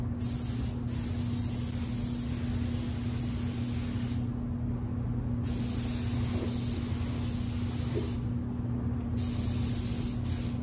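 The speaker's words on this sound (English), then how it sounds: "Once I'm done spraying the sealer," A spray gun spraying sealer inside a truck bed hisses steadily for several seconds, with brief gaps in the upper hiss as the trigger is eased, plus a constant low hum.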